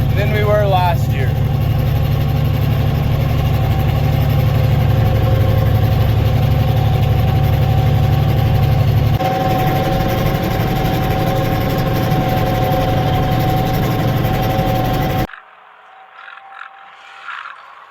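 Versatile 936 tractor engine running steadily in a field while pulling a Concord air seeder at seeding time, a loud continuous low drone that shifts slightly partway through before cutting off abruptly near the end.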